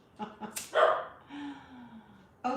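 A dog barks in a few short, high yips and woofs close by, followed by a whining tone and one more yip at the end.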